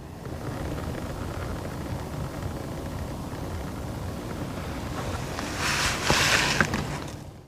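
Engine oil drains from the filter housing of a VW 2.0 TDI diesel in a steady, close, splashy trickle that grows briefly louder and brighter near the end.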